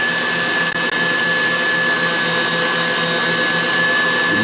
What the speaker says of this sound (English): the mixture continues beating on high speed